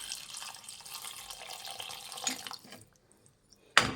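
Water pours into a pan of curry leaf chicken, a close splashing stream that runs for a few seconds and then stops, followed by a short clatter.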